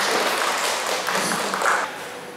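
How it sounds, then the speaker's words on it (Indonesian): A seminar audience applauds the moderator, a dense wash of clapping from many hands that holds steady for a couple of seconds, then starts to thin toward the end. "tepuk tangan dulu dong untuk moderator kami"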